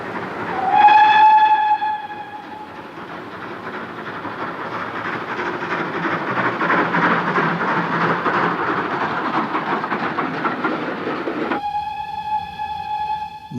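A steam locomotive runs along a suburban circle line in Edinburgh, near the former Newington station, passing close and loud with a steady rolling rumble of wheels and a long whistle at the start and again near the end.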